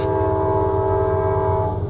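A train rumbles past close by, its horn blaring loudly and steadily over the heavy rolling of the wagons.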